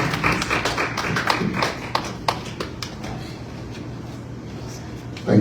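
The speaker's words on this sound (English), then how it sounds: "A round of applause for him." Applause from an audience at a UN CSW parallel event, a brief burst of scattered claps that thins out to a few isolated taps and then quiet room tone.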